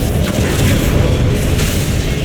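A Confringo blasting spell detonates in Hogwarts Legacy, a loud, sustained low-end boom with rumbling, crackling debris that fills the whole moment without a clear break.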